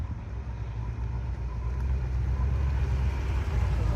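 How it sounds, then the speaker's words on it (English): Classic cars, among them an Austin and a Bentley Special, roll into a car show, a low steady engine rumble that swells slightly as vehicles pass nearby, with no voices. "Cars are rolling in."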